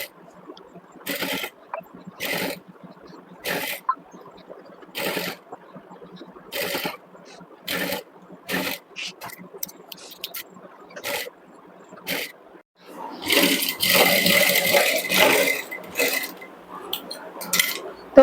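Sewing machine stitching a neck binding strip onto a blouse at a sewing class, heard as repeated short bursts of running stitches separated by brief pauses, growing into a longer, louder run near the end.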